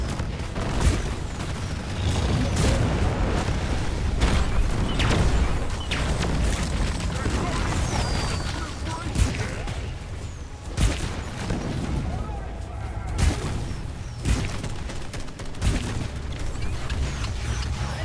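Gunfire in Deep Rock Galactic from the Sludge Pump with the Disperser Compound overclock, a run of heavy booming shots and mechanical clanks over constant loud ambience, with people talking over it.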